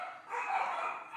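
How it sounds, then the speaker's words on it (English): Pet dogs bark at home, heard as a short, muffled bark that lasts about a second and comes from a moderate distance. "If you guys hear some barking, that's my dogs"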